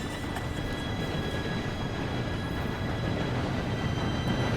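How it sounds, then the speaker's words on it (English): Train approaching in Red Dead Redemption II, a steady low rumble of rolling cars and wheels on track that holds at a constant level throughout, with no talk over it. "Train should be here any minute now."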